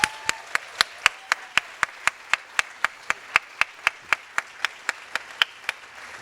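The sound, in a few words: applause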